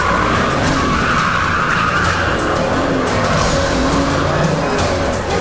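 A Bugatti Veyron, 1,000 horsepower, skids through a hairpin in first gear, tyres scrubbing and squealing continuously and loudly over engine noise close by.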